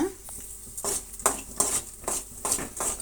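Urad dal and chana dal frying in hot oil with mustard seeds in a pan, heard as a soft sizzle under repeated scraping and clinking of a spoon against the metal, close and fairly quiet.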